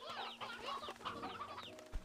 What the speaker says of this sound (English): Oh, and the chickens.